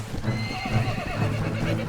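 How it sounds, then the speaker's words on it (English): Donkey mount sounds in a World of Ice and Fire mod of a video game: a steady run of hoof clip-clop with braying, whinny-like calls, fairly loud and close, with no talk over it. "It's not worth buying that donkey."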